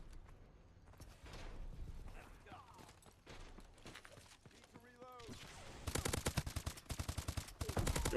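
Gunfire in Call of Duty Advanced Warfare comes as rapid automatic bursts, loud and close, in the latter half, with quieter shots, game effects and some voice before it.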